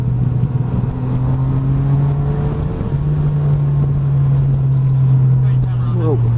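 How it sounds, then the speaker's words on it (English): A truck rumbles past in Spain with a steady low engine drone that rises and fades, heard close by amid constant road noise. "Watching the truck, that's what that was."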